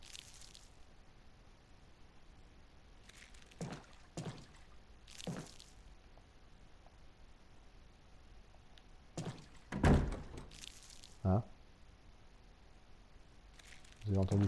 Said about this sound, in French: Vous avez entendu la porte claquer comme moi là?